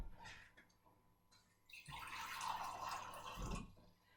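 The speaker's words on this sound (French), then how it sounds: "je vide une tasse de sirop d'érable. Avec une demi-tasse d'eau." Maple syrup and water are poured into a cooking pot for pudding chômeur, first faint drips, then a fuller, louder stream of liquid splashing from about two seconds on, close by and quiet overall.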